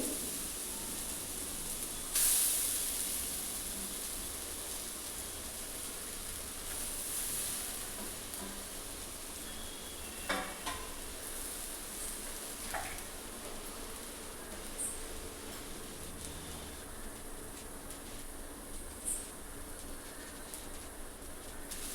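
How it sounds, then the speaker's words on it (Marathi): Grated sweet potato fries in ghee in a pan over low gas, giving a steady, faint sizzling hiss that carries on for over twenty seconds with a few small clicks and knocks. "तुपामध्ये आता रताळी टाकायची आहे किसलेली रताळी"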